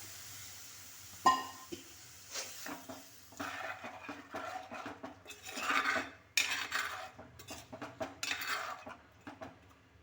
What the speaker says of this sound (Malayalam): ഒന്ന് ഇളക്കിയതിന് ശേഷം നമ്മൾ ഈ എടുത്തു വെച്ചിരുന്ന തേങ്ങാപ്പാലുണ്ടല്ലോ രണ്ട് കപ്പോളം അതൊഴിച്ചു കൊടുക്കാം